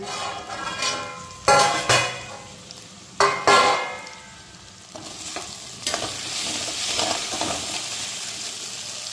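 Ridge gourd sabzi sizzling in oil in a pan with no water added, stirred in bursts of scraping and clatter, then a steadier sizzle continuing to the end, close and fairly loud.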